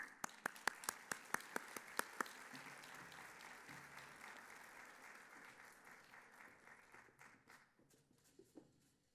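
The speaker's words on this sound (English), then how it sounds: "Please help me thank and welcome her with a very warm round of applause." Audience applause welcoming a keynote speaker at a regional climate leadership summit, with sharp distinct claps at first that blend into a softer, steady round of clapping and gradually fade out.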